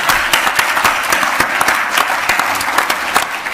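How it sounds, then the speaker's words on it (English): A crowd at a talk on digital media claps loudly and briskly for Jeremy, with dense, close applause holding steady throughout. "So Jeremy deserves an independent round of applause"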